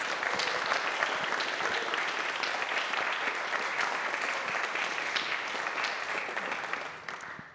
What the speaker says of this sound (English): If we can have a round of applause for all of our performers